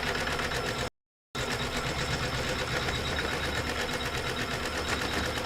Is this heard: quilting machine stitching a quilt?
yes